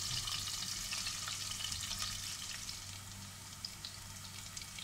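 Onions sauté in a pan for mint pulao, a bright, even sizzle that hisses steadily throughout at moderate volume, with occasional faint ticks and no voices.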